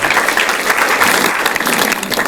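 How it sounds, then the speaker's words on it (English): A room full of people claps loudly for a volunteer at a tech talk, dense, close applause holding at a steady level throughout. "Can you give him a round of applause?"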